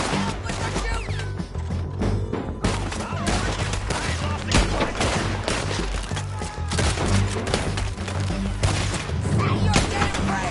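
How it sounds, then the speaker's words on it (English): Dense, loud gunfire from a Red Dead Redemption 2 shootout, with rapid overlapping shots and booms that carry on through the whole stretch and cover brief game dialogue. "Can you help with the shooting?"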